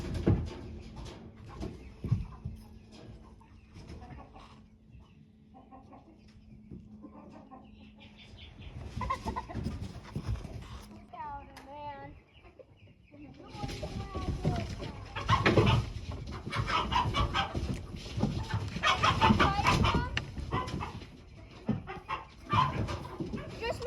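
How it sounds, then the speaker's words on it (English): Roosters crow and squabble while being introduced to each other, with rising cries and agitated clucking, a dog also sounding; the crowing grows louder and busier toward the end. "I couldn't even take the screaming of the front rooster anymore."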